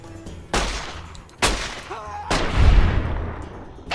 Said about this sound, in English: Why were they shooting at me?